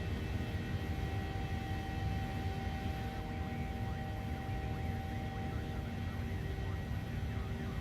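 Aircraft engine drone in Microsoft Flight Simulator 2020, a steady, loud, continuous hum with constant tonal layers running unbroken throughout.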